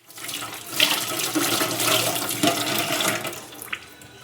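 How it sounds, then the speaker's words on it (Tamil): Hot water poured and drained off freshly cooked food in a home kitchen, a steady close splashing gush with brief louder spurts, running the full length without speech. "தண்ணி வடி இது சூடாக இருக்கும்"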